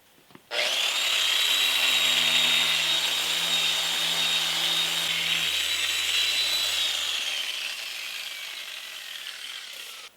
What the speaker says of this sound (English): This is a random orbit sander.